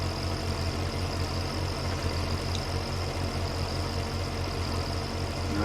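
A Fendt tractor engine runs steadily at a low, even idle-like drone, close and continuous with no other sounds over it on a farm in May 1962 hay season.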